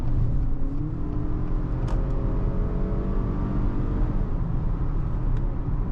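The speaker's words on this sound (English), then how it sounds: "You feel the torque coming out of this 2-liter engine." A 2025 Acura RDX A-Spec with a 2-liter engine drives along, its steady engine drone and road rumble filling the cabin with a faint rising whine as it pulls, loud and close, with no talk.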